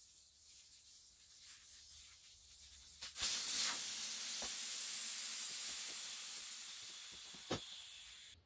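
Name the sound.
air hissing from tire after removing the valve core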